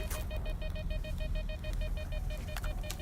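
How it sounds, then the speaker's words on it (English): Repeated electronic beeps pulse in a fast, even rhythm from a STALKER 2 video game, bright and steady over a low rumbling game background, with a few sharper clicks near the end. "there's a lot of beeping in this game"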